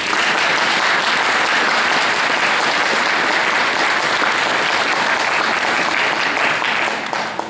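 Sustained applause from a church audience fills the space after a choir song at a concert in Durbe church, dense and steady throughout with no voices.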